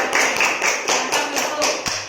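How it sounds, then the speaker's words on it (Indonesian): Group of students clapping in a classroom during a mathematics lesson, a brisk rhythmic patter of hands lasting a couple of seconds, fairly close and loud. "tepuk tangan kepada kita"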